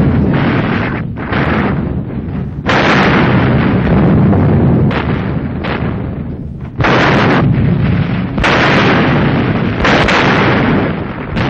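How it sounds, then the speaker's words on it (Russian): Artillery firing direct fire from street crossroads in Poland in 1944, loud repeated blasts and booming bursts that follow one another closely amid continuous rumbling battle noise, with no voices. "С перекрестков улиц бьют прямой наводкой."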